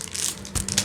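Plastic packaging around an ELV stylus pen crinkles and crunches as it is torn open, a quick burst of close crackling with a sharper rip near the end.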